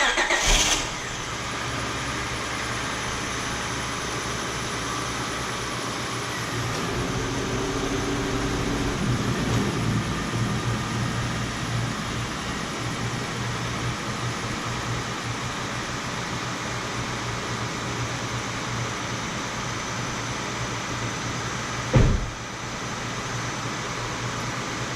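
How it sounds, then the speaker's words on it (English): A sixth-generation Honda Accord V6, checked for a no-heat fault, cranks briefly and catches, then settles into a steady low idle hum that runs on alone, with a short knock or click near the end. "So I'm going to start the car up and let it run"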